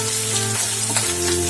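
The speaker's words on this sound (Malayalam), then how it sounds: "അതിലേക്ക് തന്നെ വെളുത്തുള്ളി ചതച്ച് വെച്ചത് നമുക്ക് ചേർത്ത് കൊടുക്കാം. അത് രണ്ടും നന്നായിട്ടൊന്ന് വഴറ്റിയെടുക്കാം." Crushed garlic sautéing in hot oil in a pan for Kerala egg roast, a close, steady sizzle with faint stirring scrapes, while a low hum runs underneath.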